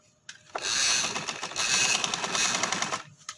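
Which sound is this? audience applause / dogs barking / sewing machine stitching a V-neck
sewing machine stitching a V-neck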